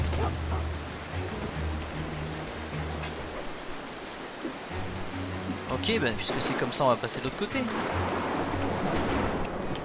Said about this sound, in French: Oh, il me gonfle cet orage.